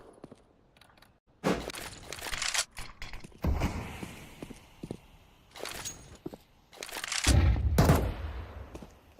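Counter-Strike gunfire in a competitive match, with sharp bursts of shots and rapid automatic fire arriving in clusters, separated by quieter stretches of movement and mechanical clicks.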